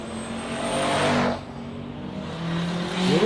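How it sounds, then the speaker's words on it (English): A boosted Toyota 3RZ four-cylinder engine in a drag-racing Hilux roars loudly at a dragway, revving hard and then dropping off, with a whine carrying beneath a steady rumble. "3RZs have a sound when they're boosted. You can hear them."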